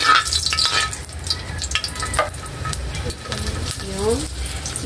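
Garlic sautéing in a pan for a tomato and onion soup dish, giving a steady sizzle and fry with occasional stirring clatter, a person's voice passing over it.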